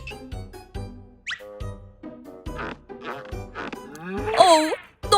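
Cartoon cow mooing in a children's comedy, with drawn-out harmonic lowing calls repeating several times amid other bright cartoon effects and a rising squeal near the end.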